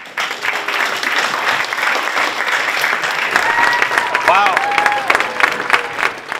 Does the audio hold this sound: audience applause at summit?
yes